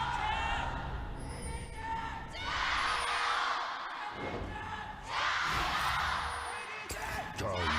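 An esports arena crowd at a League of Legends LPL match, Vici Gaming versus Edward Gaming, roars and cheers in loud sustained waves, swelling and dipping, with a commentator talking over the noise.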